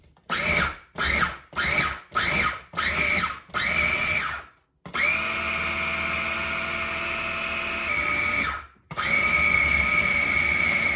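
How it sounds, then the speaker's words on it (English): A food processor pulses butter into cheese cracker dough in short bursts, about five quick whirring pulses followed by two longer continuous runs, loud and close with no talking. "when you're adding the butter, start by pulsing it because it allows it to not clump up as much"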